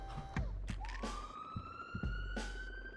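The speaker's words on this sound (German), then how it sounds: "Ich habe noch gar nicht angefangen und es ertönt schon Sirenen." Emergency sirens wail in the hospital management game Project Hospital, with rising electronic sweeps that climb and hold, punctuated by a few short mechanical clicks, moderately quiet and with no talking.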